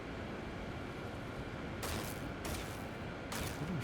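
Gunfire erupts in the video game Starfield: three short bursts of sharp rattling shots break through a steady low hum of background noise, moderately loud, with no voices.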